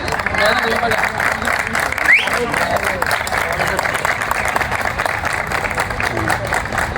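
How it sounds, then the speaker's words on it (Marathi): Loud, dense applause fills an outdoor opening ceremony of a village sports festival, steady throughout with crowd babble mixed in. "जोरात टाळ्या होऊ द्या"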